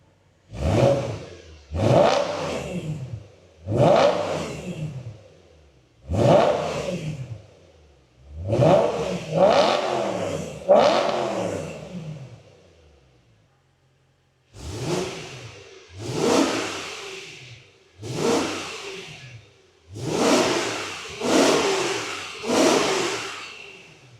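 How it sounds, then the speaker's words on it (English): A BMW E9X M3 engine in M mode revs repeatedly with its exhaust valves open, about ten sharp, loud blips rising and falling in quick succession with a brief gap midway, close up and with no talking. "We'll go ahead and rev it up right now."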